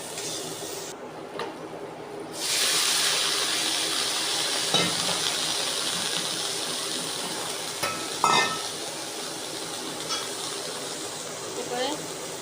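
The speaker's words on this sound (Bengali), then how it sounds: "তো বেগুনটা আগে ভেজে নিচ্ছি একটু" Eggplant frying in a pan gives a steady close sizzle that swells after a couple of seconds, broken by occasional clinks and scrapes of a spatula, with a person talking over it.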